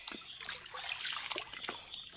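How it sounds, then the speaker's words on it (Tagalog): Water trickling and dribbling from a natural spring outdoors, a steady soft flow with small splashes close by and no voices. "Ito ba yung bukal?"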